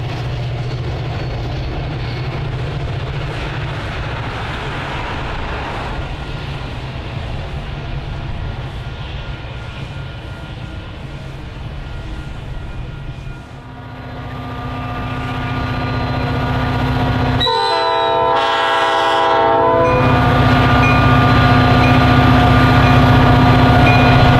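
An eastbound commuter train rumbles steadily past at close range as it crosses a river toward downtown Chicago, swelling louder, with a brief sustained horn blast partway through.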